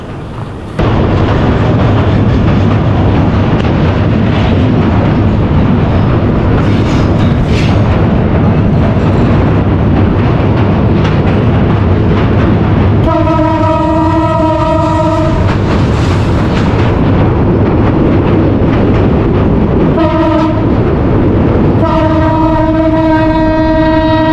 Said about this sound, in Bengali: বাংলাদেশের এই রেল ভ্রমণটা আমার জীবনে একটি স্মরণীয় রেল ভ্রমণ হয়ে থাকবে